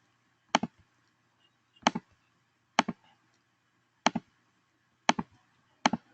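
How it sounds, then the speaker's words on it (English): Computer mouse clicks while drawing a polygon on screen, six sharp, close clicks spaced about a second apart in a quiet room. "every time I'm clicking, it's allowing me to change directions"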